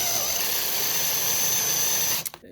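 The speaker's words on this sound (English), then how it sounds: "Let's get back to drilling." A power drill with a carbide bit grinds into a steel wheel lock on a Fiat 500, a loud, steady high whine held for about two seconds before it abruptly stops.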